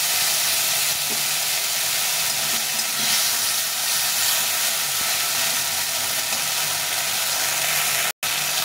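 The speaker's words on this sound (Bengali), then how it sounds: "আদা রাঁধুনিটাকে দিয়ে নেব। জল দিয়ে এটাকে ভালো করে ভেজে নিতে হবে।" Ginger and radhuni spice frying in a pan with a splash of water, giving a loud, steady hiss and sizzle that runs unbroken for several seconds before a brief cutoff near the end.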